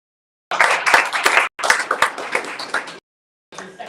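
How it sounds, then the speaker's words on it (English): Audience clapping at a professional networking meetup, two dense bursts of hand claps separated by brief silent gaps, then a fainter resumption at the end, close and fairly loud. "Give him a round of applause."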